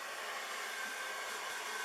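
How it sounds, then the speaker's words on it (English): A hair dryer on its cool setting blows steadily across poured paint for a flower Dutch pour, a constant close whirring rush with no talk. "I'm going to use my other hair dryer"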